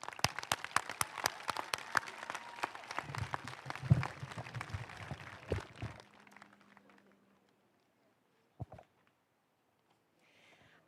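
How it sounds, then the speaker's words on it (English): Audience applause at a school moving-up ceremony starts as scattered sharp claps that swell, then fade out by about six seconds, leaving near silence with a few isolated claps afterward. "Can we have one more round of applause for them?"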